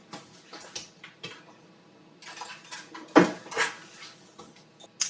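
A spoon scoops into cups of no-bake cheesecake, giving scattered light clinks and scrapes against the containers, with a sharper knock near the middle and quiet gaps between.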